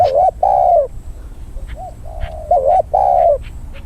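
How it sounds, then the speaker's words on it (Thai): Spotted doves coo close by in several repeated wavering calls, with short pauses between them over a low background rumble. "อ่าได้ยินเสียงเสียง สู้กับนก เจ้าคำแคนนะครับ"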